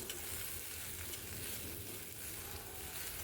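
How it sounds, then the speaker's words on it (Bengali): Okra (bhindi) fries in a pan with salt and turmeric over low to medium flame, a steady, close, even sizzle with light stirring, continuous and unbroken throughout. "আর ভাজার জন্য দিয়ে দিচ্ছি সামান্য লবণ আর হলুদের গুঁড়ো কিছুক্ষণ ভেজে নেব লো টু মিডিয়াম ফ্লেমে"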